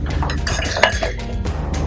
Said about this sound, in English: 3 ice cubes.